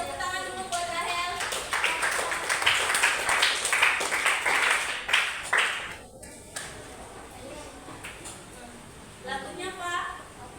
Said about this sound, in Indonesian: Tepuk tangan dulu buat Rahel.